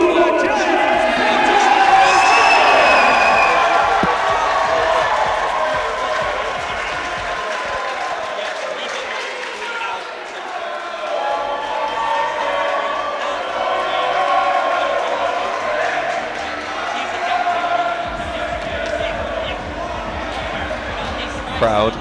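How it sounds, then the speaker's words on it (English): A crowd at a boxing event roars and applauds loudly after a knockout victory, a sustained wash of cheering and whoops that stays strong throughout, with voices talking over the noise. "Crowd going wild for their man James Porter Smith, getting the knockout victory."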